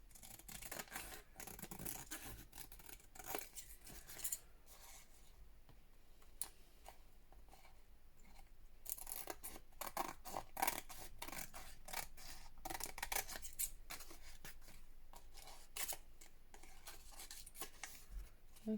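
Scissors trimming a piece of handmade paper ephemera for a junk journal, heard as a run of close, quiet snips and crisp paper rustles with intermittent clicks, no talking.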